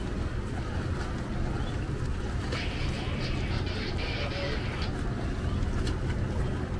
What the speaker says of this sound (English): Here comes another ferry coming in.